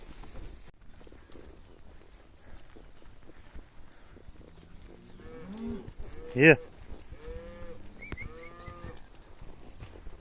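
Cattle with young calves on a mountain pasture, moos rising in the middle and later, moderately close over a steady outdoor background.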